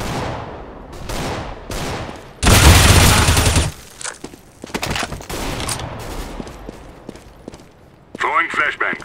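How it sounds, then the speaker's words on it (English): Gunfire and a flashbang grenade in a first-person shooter game, with an M4A1 and P250 in play: a loud sustained burst of shots, sharp scattered reports and clattering effects, with talk over the action. "Throwing flashbang."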